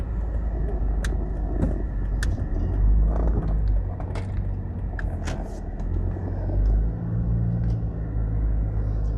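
Car driving slowly in heavy traffic on Dunrobin Avenue, Jamaica, with a steady low engine and road rumble, passing vehicles and a few faint horn or clatter sounds in the distance, no speech.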